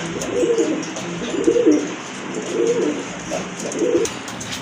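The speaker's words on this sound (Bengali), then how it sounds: "একজোড়া তুরিবাস কবুতর অনেকে তুরিবাস কবুতর খুঁজে থাকেন" A pair of Turibas pigeons coo in four evenly spaced, low soft calls over a steady background hiss, close by and with no talk.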